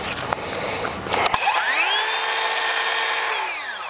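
A Ryobi 18V ONE+ HP brushless 7-1/4 inch cordless circular saw cuts through a board, then spins down with a falling whine after the blade clears, loud and close.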